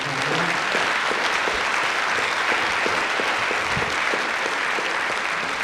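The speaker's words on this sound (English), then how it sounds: "I want to give a round of applause for our Austin company." An audience at an evening talk claps in a sustained round of applause, dense and even throughout, with a few individual claps standing out.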